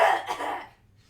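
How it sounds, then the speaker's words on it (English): One loud, harsh cough bursts out close by and trails off quickly into quiet. "do you let out like a loud cough?"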